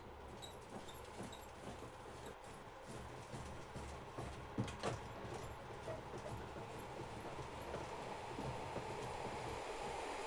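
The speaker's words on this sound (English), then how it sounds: "Oh, there's a train coming in too." A Class 411 passenger train rumbles into a station on the Brockenhurst to Lymington Pier line in Train Simulator, a low steady rolling drone with faint clicks and clatter building gradually.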